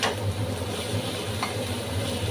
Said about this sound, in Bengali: তো দেখুন এইভাবে আমি নেড়ে ছেড়ে ভালো করে একটু লাল লাল করে ভেজে নেব।